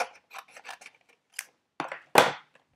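Scissors trimming cardstock while making a braided lattice strawberry card, a few soft scattered snips followed by two louder, sharper cuts near the end, close and alone.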